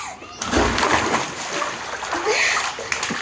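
Someone jumps into a swimming pool with one loud splash, followed by water sloshing. Children's voices and chatter run around the splash.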